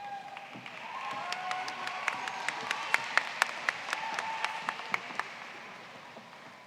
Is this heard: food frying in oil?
no